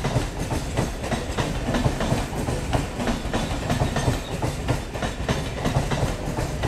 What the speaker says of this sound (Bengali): সামনে পাস হচ্ছে ট্রেন নাম্বার 30113, বিবাদীবাগ থেকে আসছে